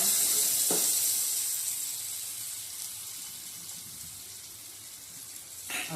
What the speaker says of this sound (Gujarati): અને થોડી વાર તેલમાં ચડવા દેવું હલાવતા હલાવતા